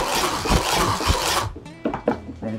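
A mooli potato ricer presses hot potatoes, giving a continuous rough, rasping squish for over a second, followed by a few short softer scrapes and knocks as it is worked.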